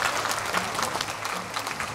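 A crowd claps at a singer's album launch concert, a full, close, continuous round of applause from many people that stays level for the whole moment.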